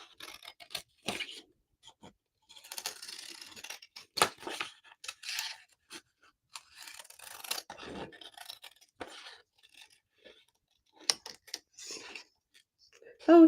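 Scissors cut out a paper template in short snipping and scraping bursts, close and fairly quiet, with pauses between cuts.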